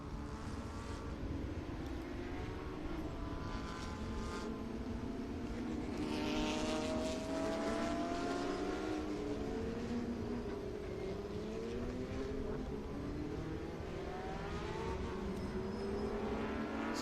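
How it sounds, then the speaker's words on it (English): Lamborghini race car running at Barber Motorsports Park, its engine note sweeping up and down in pitch as it passes along the track, steady and moderately distant with a continuous mechanical drone. "So there it is. There's the Lamborghini."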